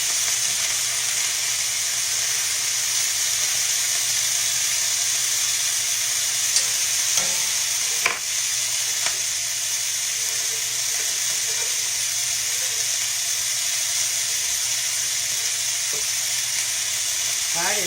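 Beef for a stroganoff sizzles steadily in a pan, a constant close frying hiss with a few light clinks and stirring touches partway through, and no one speaking.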